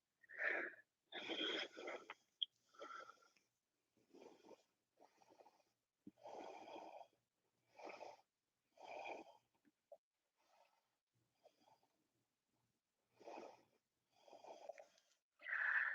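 Strong, deep yoga breathing comes in a steady series of separate inhales and exhales, each a breathy rush with pauses between, close and fairly quiet with no speech.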